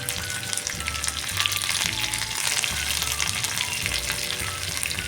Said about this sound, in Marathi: आता आपण या मोहरी, जिरे, कढीपत्ता, हिरवी मिरची